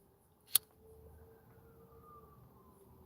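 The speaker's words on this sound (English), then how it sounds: "There go the sirens." A faint, steady siren wail drifts in from a distance, holding a level tone under a low background hum after a brief sharp click.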